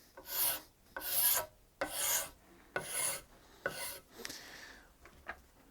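A knife blade scrapes across wood in about seven rasping strokes at a steady rhythm, close and moderately loud, with no talking.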